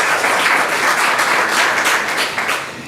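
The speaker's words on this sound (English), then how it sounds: "you can clap again" Audience applause fills a school board business meeting, a steady dense clapping from a crowd that holds at an even loudness for about three seconds before easing slightly at the end.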